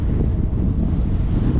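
Wind along an Everglades bike trail, a steady roaring gust buffeting the microphone close up for under two seconds, dense and continuous with no voices.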